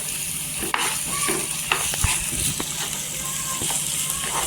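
Two or three green chilies sauté in oil with soft tomato and salt for dried shrimp chutney, a steady close sizzle broken by several sharp spatula taps and scrapes against the pan.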